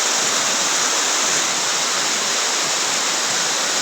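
The Brahmagiri waterfall near Trimbakeshwar roars as a dense, steady broadband rush of falling water, loud and unbroken with no voices.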